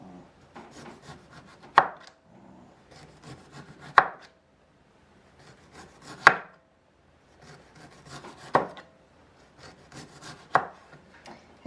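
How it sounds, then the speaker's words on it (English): A knife slices watermelon radishes into very thin slices, with five crisp chopping knocks on a board spaced about two seconds apart and soft scraping between them. "So I'm cutting them into very thin slices"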